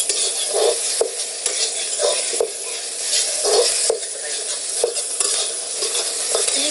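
About three spoonfuls of flaxseed fry in a pan with a steady bright sizzle, broken every second or so by the scrape and clink of a spoon stirring, close up and with no voices.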